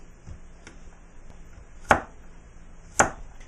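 A knife chops carrot and broccoli on a board, with two sharp loud strikes about a second apart and a few faint lighter taps before them.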